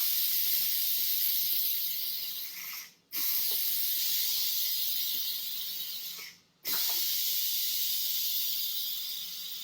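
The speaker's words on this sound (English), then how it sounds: "that's a lot of steam in there." Steam hisses loudly and continuously from a quick cooker while lentil soup cooks, broken by two brief cutoffs where the release stops before the hiss resumes at full strength.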